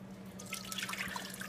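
Water poured into a baking pan for a fruitcake water bath, a soft, close trickle and splash with light drips, fairly quiet and continuous, no talking.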